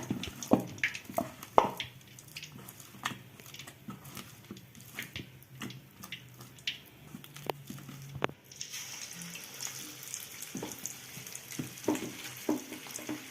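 Chicken legs fry in hot oil with a soft, continuous sizzle, punctuated by scattered pops and clicks that crackle quietly throughout.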